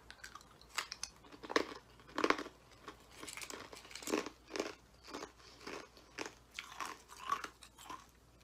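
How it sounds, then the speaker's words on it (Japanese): Ice cubes clatter and crunch into a cup for iced coffee, making a series of close, quiet, crackly knocks in irregular bursts, with no talking. "せっかくなんでちょっと氷をね入れて準備してるんで氷入れて飲みますね"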